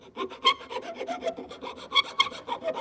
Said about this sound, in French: je peux prendre la lime